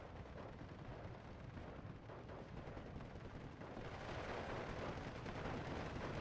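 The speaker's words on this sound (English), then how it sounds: "Japaasaa's brought in his own 3-inch mortars, which are falling directly on the 28mm AT gun" 3-inch mortars in Steel Division 2 rain down on an anti-tank gun position, heard as a dense, continuous low rumble of distant impacts and fire that grows slightly louder after about four seconds.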